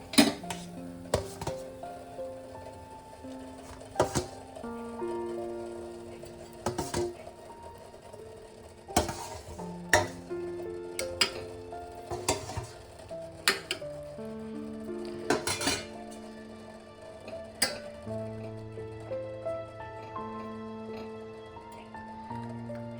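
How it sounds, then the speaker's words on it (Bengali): Fried gulab jamun are dropped into sugar syrup in a metal pot, producing a long series of close, bright metallic clinks and knocks from a spoon against the pot, irregular and spaced out, some louder than others. "এগুলোকে এবার আমি রসের মধ্যে দিয়ে দেবো।"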